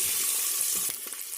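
Boiled eggs fry in hot oil in a pan while cooking egg biryani, giving a steady, close sizzle with faint stirring and crackle and no talking.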